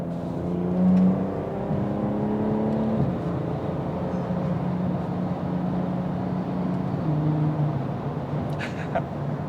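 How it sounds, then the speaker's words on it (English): A BMW 340i fitted with a VRSF catalyst downpipe revs and changes pitch through quick paddle-shifted downshifts, its engine drone steady and close with a couple of distinct steps in tone and a faint voice. "I love the downshift sounds now, especially with the VRSF catalyst downpipe"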